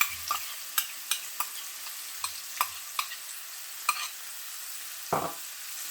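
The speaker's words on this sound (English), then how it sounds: "I'm gonna add my white onions straight into my pan." White onions fry quietly in a pan with curry powder, a faint low sizzle broken by a string of sharp stirring clicks and scrapes.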